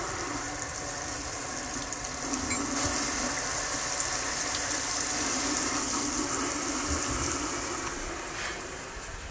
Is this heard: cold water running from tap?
yes